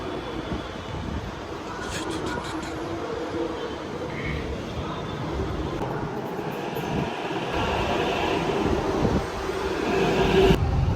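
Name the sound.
metro train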